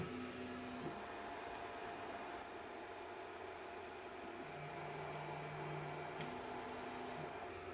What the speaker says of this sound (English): D4 Pro, let's home this printer.